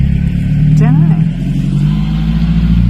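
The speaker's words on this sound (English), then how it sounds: "their cars sound really pretty" Cars pass at night near an old mine, their engines revving with a steady mid-low drone and a rising whoosh partway through, heard from a hidden spot with quiet voices nearby.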